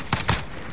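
Gunfire in Call of Duty Warzone on the Verdansk map: two quick, close shots in rapid succession, followed by a brief quiet tail.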